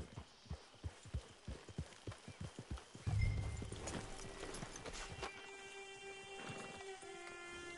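Horse hooves clip-clop in Red Dead Redemption 2, a steady quick rhythm of close hoofbeats that gives way to a louder rumble and a neigh, followed by quieter ambient tones.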